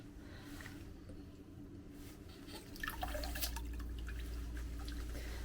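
Water trickling and dripping as a hiking water filter is flushed through outdoors on the Pacific Crest Trail, a steady low wash with a brighter splash of drips partway through, no one speaking.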